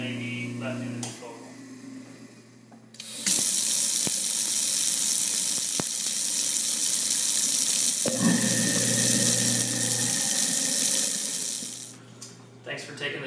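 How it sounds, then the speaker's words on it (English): Tap water runs hard into a kitchen sink to rinse out a garbage disposal, a loud steady rush lasting several seconds and then cutting off, with quieter handling sounds before and after. "rinse down whatever remaining food particles may be left in the disposal"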